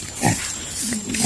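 A four-month-old farm pig grunts at feeding time. A few short, low oinks come in quick succession, close and fairly loud, with quiet pauses between them.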